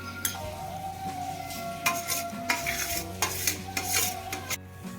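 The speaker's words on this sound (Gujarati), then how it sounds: "બે મોટી ચમચી જેટલું દહીં નાખીશું અને સરસ રીતે મિક્સ કરી દઈશું" Yogurt being stirred into spiced flour dough for thepla, a spoon scraping and clinking against a bowl in several quick close strokes, with a faint sizzle in the background.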